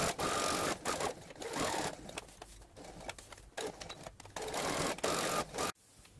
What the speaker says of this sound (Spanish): Vamos a coser por todo el borde.